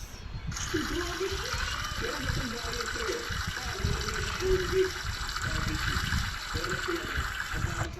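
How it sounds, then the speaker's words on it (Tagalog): A steady hiss of running shower water in the Roblox game Brookhaven starts abruptly after a brief silence and continues evenly throughout, with low murmuring voice sounds beneath it. "shower na tayo"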